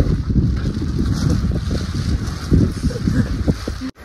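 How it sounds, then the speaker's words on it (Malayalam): Strong wind gusting across the Madikeri hills while trekking, a steady loud rushing roar with buffeting against the microphone, continuous for a few seconds before cutting off abruptly at the end. "ഗൈസ്, ഇവിടുത്തെ കാറ്റാണ് കാറ്റ്, കേട്ടിട്ടില്ലേ?"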